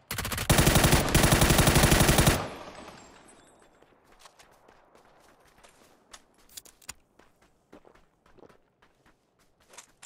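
A rapid, loud burst of automatic gunfire rattles for about two seconds in PUBG from a prone shooter, then gives way to scattered faint clicks, shuffling and distant pops.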